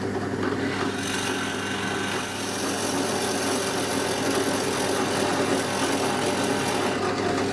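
A power drill grinds steadily into a Flaxwood guitar kit body up close, a continuous rasping whir with no pauses or voices.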